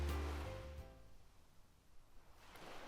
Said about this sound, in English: The waves splashed in the background